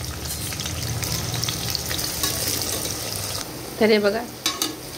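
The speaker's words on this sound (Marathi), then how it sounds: "कांदा आता छान फ्राय होतोय।" Large vertically cut onion slices frying in hot oil, a steady loud sizzle that fades out, followed by a few clinks of a pot, with someone speaking briefly.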